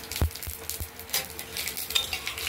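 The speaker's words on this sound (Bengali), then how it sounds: "পাঁচ ফোড়ন দিয়ে দিলাম" Panch phoron spices hit hot oil in a pan for a mixed vegetable curry, giving a steady close sizzle broken by a few sharp clinks of a utensil against the pan early on.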